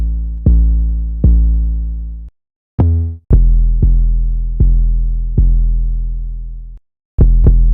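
Two layered 808 bass lines track the chord root notes, one holding steady and the other moving up and down, in a hip-hop beat. Deep booming notes hit one after another with long decaying tails, broken by short gaps of silence, with no voices.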